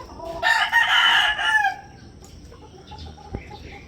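An SBR gamefowl rooster crows once, loud and close, a long drawn-out call lasting over a second, followed by quieter background farm noise and a faint distant thump.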